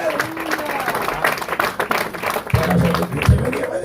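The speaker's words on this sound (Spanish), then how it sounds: "Débele aplauso al Señor si puede" A church congregation claps for the Lord during a Spanish-language sermon, scattered applause mixed under a preacher's ongoing voice and a loud low thump near the end.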